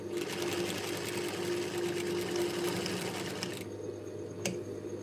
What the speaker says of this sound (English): Sew right on top of the dart. Now we've sewn the darts.